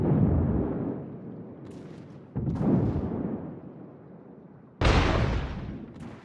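Heavy naval guns from a warship fire at an enemy battleship in a video game: three loud, booming salvos, each a sharp blast trailing into a long rumbling decay, with no talking.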